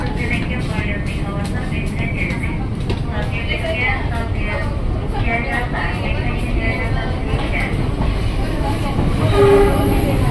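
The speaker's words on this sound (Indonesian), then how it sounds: "ada rangkaian KAJJ nih" A long-distance KAJJ passenger train rolls past on the Jakarta rail lines with a steady, loud, close rumble of wheels and cars, swelling slightly near the end, while voices murmur underneath.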